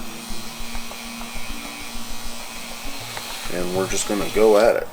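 A Dremel rotary tool polishes guitar frets with Autosol metal polish: a steady motor hum runs under a man's speech and swells into a brief whirring spin-up near the end.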